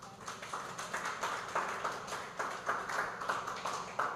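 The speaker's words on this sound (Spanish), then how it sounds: "Denle un aplauso al Señor." A church congregation applauds during a worship service, with dense, continuous clapping that rises and falls in waves at a moderate distance for several seconds.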